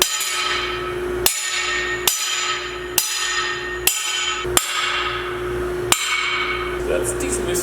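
Hard, ringing metallic hammer blows strike a fresh MIG weld on steel, seven evenly spaced loud hits about a second apart, each leaving a ringing tail.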